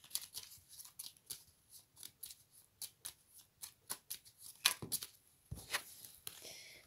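Oracle cards are shuffled and drawn, a quick run of soft riffling snaps and paper flicks, close and quiet, with a few sharper card slaps near the end.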